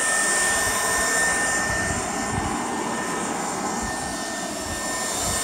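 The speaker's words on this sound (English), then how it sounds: "that's a pipe to a shop vac at a 45 degree angle or so into the bottom of the hole just to shoot air down in it." Shop vac blowing air through a pipe set at an angle into the bottom of a dug hole in the ground, a loud continuous roaring whoosh that holds steady throughout.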